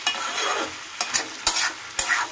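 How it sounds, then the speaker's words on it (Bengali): Fried long beans (borboti) are stir-fried in a pan: a continuous sizzle broken by four or five sharp spatula scrapes and knocks, with no voices. "এবার দিয়ে দেবো ভেজে রাখা বরবটিটা। এবার এটা দিয়ে কষাতে থাকবে।"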